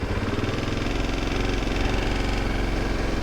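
A motorcycle engine runs steadily near the microphone, idling with a constant low rumble and vibration while the clutch is tried after a repair in an Alaskan parking lot.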